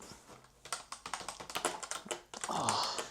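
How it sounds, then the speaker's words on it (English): Typing on a cheap, rattly keyboard bundled with a gaming PC: a fast run of close, clacky keystrokes with a brief pause midway, ending in a louder burst of rattling presses. "I don't think there's a worse typing feel in the world. It sounds so rattly and cheap."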